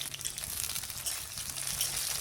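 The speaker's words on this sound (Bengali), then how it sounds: "ওতে দিয়ে দিলাম 2 বড় সাইজের পেঁয়াজ।" Two large chopped onions drop into oil with fried curry leaves for a snail curry, giving a steady, soft hiss of sizzling throughout, close but quiet.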